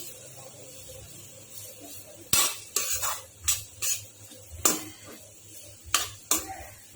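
Boiled potatoes are mixed and mashed into samosa filling, with about eight distinct clinks and scrapes of a utensil against the vessel, spaced irregularly over a quiet background.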